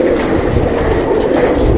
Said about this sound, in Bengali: এই নদ দুইটা যে ডাকতেছে এক একটা কবুতর দেখেন